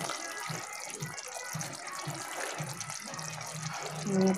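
A small amount of water poured into a pan of half-cooked doi chicken, a steady gushing trickle close by with bubbling underneath, rising slightly at the end.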